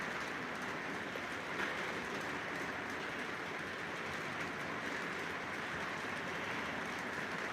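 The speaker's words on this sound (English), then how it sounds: "I'll let you guys get the full effect of this long train." A long model train led by a Big Boy locomotive hauls 41 coal cars past in a steady, continuous rolling rumble with fine clatter, running evenly without a break or any voices.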